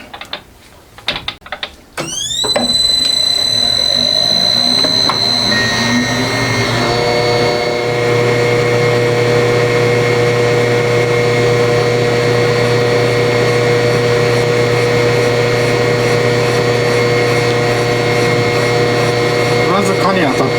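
A machine tool cuts a 125cc four-cylinder engine crankcase, starting after a few clunks and then holding a loud, steady whining drone with sustained tones and a grinding edge throughout.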